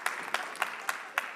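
A lecture audience applauds briefly at a neuroscience talk, a short burst of clapping with a few sharper claps recurring in an even rhythm.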